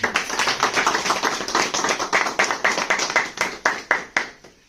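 Audience claps together in a steady rhythmic pattern at a business plan presentation, a strong unison beat that speeds slightly and then stops.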